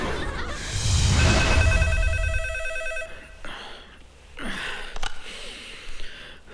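A telephone rings late at night, its bright trilling bell repeating for a couple of seconds near the start, followed by quieter breathy gasps and sniffs, with no speech.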